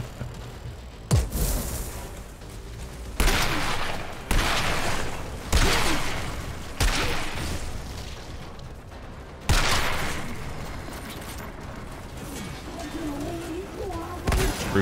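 Loud shotgun blasts from the video game Outriders fire at irregular intervals, each a sharp boom with a short decay, while voices talk over the action between shots.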